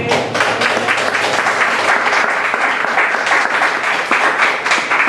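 Congregation at a church service applauds loudly and close by, brisk, dense clapping sustained throughout with individual claps standing out in the mix.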